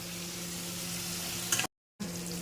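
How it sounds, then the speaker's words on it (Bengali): Potatoes frying in a pan give a steady, soft sizzle with a low hum beneath it, broken by a brief moment of silence. "হ্যাঁ, একটু আমার আলুটা ভাজা হোক।"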